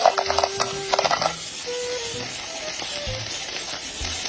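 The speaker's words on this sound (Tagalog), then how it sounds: "nung uminit na nga guys yung kaldero ay nag-isa rin ako dito ng sibuyas, bawang tsaka luya" Onion, garlic and ginger hit a hot pot and sizzle with a steady, close frying hiss, and some light stirring clatter comes near the start.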